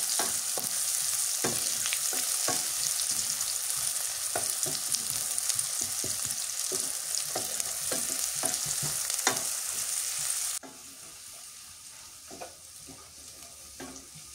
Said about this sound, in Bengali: পেঁয়াজটাকে ভাজে নিই।